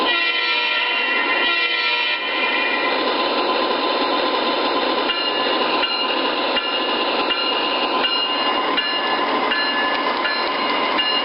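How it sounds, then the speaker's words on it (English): Lionel and MTH model trains run around a home layout, giving a steady, loud mechanical whirr and hum with faint rhythmic clicks of wheels over track joints, continuous throughout with no talking. "let's start throttling both trains. And give both of them a spin around the layout."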